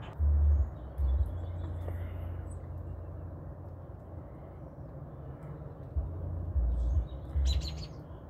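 Wild birds chirp faintly at backyard feeders in Georgia, scattered high calls over a steady low rumble of distant traffic or wind that swells in a few louder bursts.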